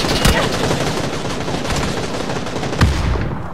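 Rapid automatic gunfire rattles continuously in a PUBG match, dense and loud throughout, with two sharper heavy shots standing out near the start and end.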